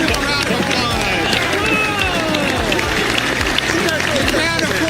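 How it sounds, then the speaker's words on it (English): A live audience claps and cheers for a man announcing a catalog, a dense, steady wash of applause and crowd hubbub filling the whole stretch at close range. "Come on, give him a round of applause!"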